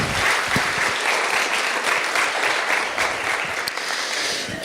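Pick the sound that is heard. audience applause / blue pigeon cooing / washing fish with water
audience applause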